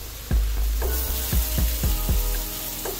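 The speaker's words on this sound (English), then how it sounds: "Fry our noodles." Pre-cooked lo mein noodles frying in a hot pan, a loud continuous sizzle punctuated by several sharp tossing or stirring knocks about every half second, close and without talk.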